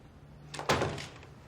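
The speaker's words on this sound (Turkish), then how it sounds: "Kapat kapıyı." A single door thuds shut, a brief solid knock with a short fade, in an otherwise quiet room.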